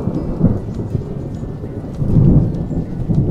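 Thunder used as a sound effect for lightning striking an airplane: a low, rolling rumble over steady rain that swells louder partway through.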